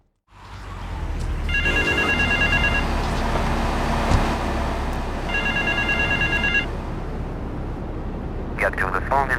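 A payphone in Grand Theft Auto III rings in two bursts of electronic trills, the first early and the second a few seconds later. Both sound over a steady bed of city and traffic ambience.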